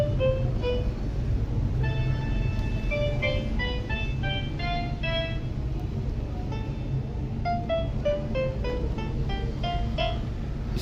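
A kids' electronic toy piano plays a bright, jingle-like electronic melody of quick stepping notes after a button press, steady and fairly loud throughout, with no talking.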